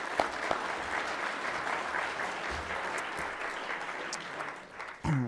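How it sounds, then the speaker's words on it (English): A conference audience at a World Trade Center executive speaker event gives the staff a round of applause, steady dense clapping for several seconds that thins out near the end before a sudden bump of noise. "Let's give them all a round of applause."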